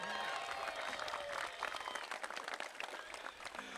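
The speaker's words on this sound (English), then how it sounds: "Would you give the loudest round of applause to our young people?" A crowd at a youth football event applauds young people steadily, a dense wash of clapping that fills the whole stretch without pause.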